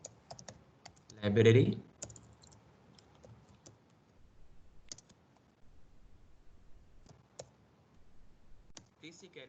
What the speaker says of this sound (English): now I'll start typing the entire program